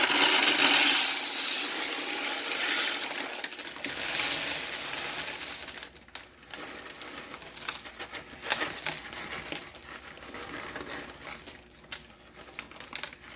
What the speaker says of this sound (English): So next we'll add in our gravel.